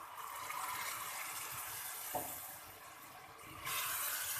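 About a glass of water poured into a cooking pot while making Punjabi-style aloo gosht, a steady splashing rush that lasts several seconds at moderate volume with no one talking.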